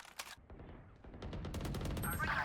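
A Phantom rifle spraying in the Valorant video game, a quick run of sharp, close gunshots in rapid succession, preceded by a couple of isolated shots and ending under a burst of other game sounds.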